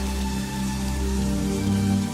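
Steady rain falls throughout, a dense, even patter that stays loud and close with no pauses.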